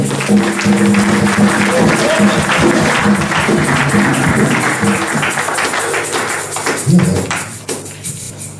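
A church congregation applauds and cheers throughout, dense clapping mixed with voices and shuffling, loud and continuous with a brief louder swell near the end.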